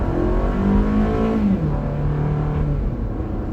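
A 2019 Toyota RAV4 Limited's naturally aspirated engine revs up loudly and then shifts, its tone dropping and settling into a steady, strong drone as the SUV accelerates.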